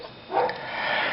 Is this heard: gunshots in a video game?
no